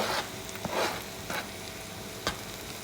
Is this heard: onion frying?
yes